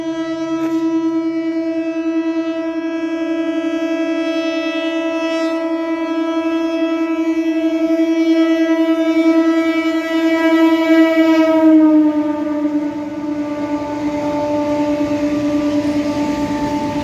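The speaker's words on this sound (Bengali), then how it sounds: "ওই পাশ থেকে একটা ট্রেন আসছে, ডাউনে একটা ট্রেন আসছে।" A train horn sounds loud and sustained for about twelve seconds as a train approaches and passes a quiet village station, a steady harmonic blare that then gives way to rumbling wheel and carriage noise.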